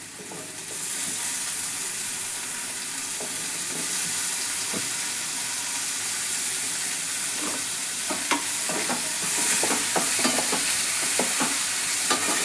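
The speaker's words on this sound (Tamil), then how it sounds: "தக்காளி நல்லா வதங்கட்டும்" Tomatoes sauté in a pan for a spinach and lentil kootu, giving a steady sizzling hiss with repeated scraping stir clicks that grow busier toward the end, close and fairly loud with no talking.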